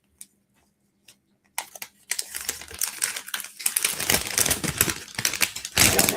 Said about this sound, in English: Justine, do we have enough time for me to flip through these papers?